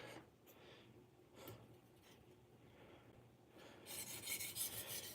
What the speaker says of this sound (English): we're going to sharpen this side of the knife